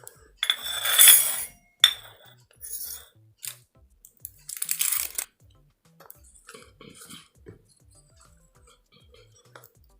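A spoon mixes half a teaspoon of turmeric into a paste in a small bowl: a few loud scraping clinks at first, then a run of lighter, irregular taps against the bowl that fade toward the end.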